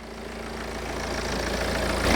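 A car engine idles steadily nearby with a low, even rumble that grows slightly louder toward the end, and no voices over it.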